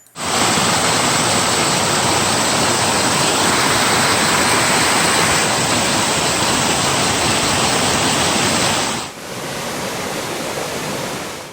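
A mountain torrent in the Sou valley rushes past an old water mill in Termes, a loud, steady, broadband roar that holds constant before dropping abruptly to a slightly softer, still continuous rush near the end.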